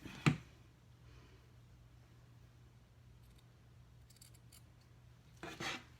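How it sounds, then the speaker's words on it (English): Two sharp snips of scissors cutting a T-shirt neckline, one near the start and another near the end, with quiet room hum in between. "I'm going to use my scissors and straighten that out"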